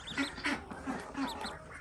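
Ducks on a farm quack in short, rapid bursts, several calls close together and fairly faint, with no talking over them.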